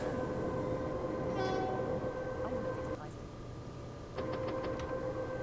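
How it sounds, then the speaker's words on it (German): In a train simulator game, a REX1 train on the Südbahn near the Gumpoldskirchen tunnel gives a brief horn signal, a short steady tone over continuous rolling rail and engine noise. "Da habe ich jetzt eben mal Signal gegeben, ganz kurz, wie es gehört."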